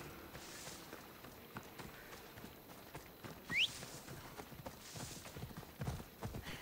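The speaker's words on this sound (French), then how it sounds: "on y va en cheval" A horse ridden in the video game Assassin's Creed Odyssey goes at a steady clip-clop of hooves, quiet and continuous, with a faint short whinny partway through.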